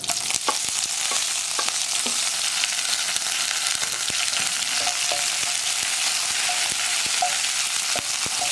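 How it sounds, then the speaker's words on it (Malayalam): Dried red chillies and curry leaves hit hot oil after the mustard seeds have popped, giving a steady loud sizzle with scattered sharp crackles and spatters and no voices. "നമുക്കിതിലേക്ക് എടുത്തു വെച്ചിരിക്കുന്ന വറ്റൽമുളകും വേപ്പിലയും ചേർക്കാം"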